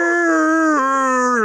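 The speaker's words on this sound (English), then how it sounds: "the howl of the beagle is the call of their people" A beagle lets out a long, loud, sustained howl close by, sliding slightly downward and holding steady, with no talk over it.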